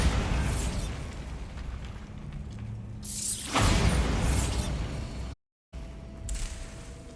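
A Bombarda spell blast in the game Hogwarts Legacy: a loud burst erupts at mid-clip and rumbles down, over steady game ambience, with a brief silent gap near the end.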